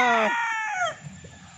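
A black bull stag sweater gamefowl rooster crows once, a loud, close, harmonic call that rises and falls, followed by faint background clucking.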